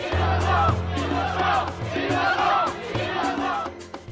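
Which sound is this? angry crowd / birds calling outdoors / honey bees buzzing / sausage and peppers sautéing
angry crowd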